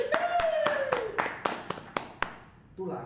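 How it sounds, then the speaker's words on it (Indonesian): A few separate claps ring out at an uneven pace, close and distinct, with a voice talking over the first part. "Tepuk tangan."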